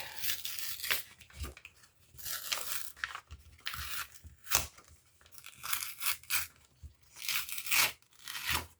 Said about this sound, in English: we just have to remove this handle carefully and just hope we don't rip the bag